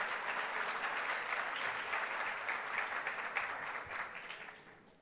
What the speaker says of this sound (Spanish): un aplauso nuevamente para él.